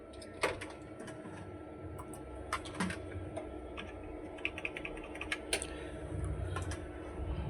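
Single keys on a computer keyboard click in sparse, irregular taps during a repair check at a computer service centre, with a low hum underneath and no talk.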